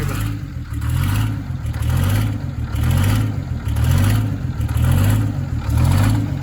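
A Detroit Diesel 6-71 engine on a ranch revs repeatedly, roughly six loud, even surges rising and falling about once a second over a deep rumbling base.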